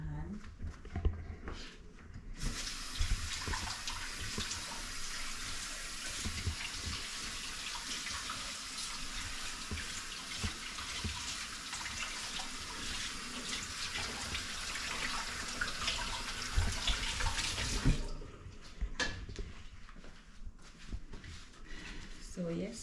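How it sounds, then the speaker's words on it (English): Tap water runs steadily into a sink for about fifteen seconds while hands are washed in a home kitchen, a loud close rushing with splashes, preceded and followed by speech and clatter. "I'm gonna wash my hand"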